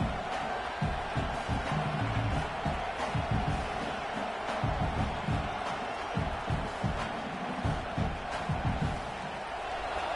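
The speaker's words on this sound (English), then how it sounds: "This crowd bringing the energy and noise early" A big football stadium crowd roars at a Florida State versus Clemson homecoming game, a constant loud cheering wall with rhythmic thumping surges and no clear speech.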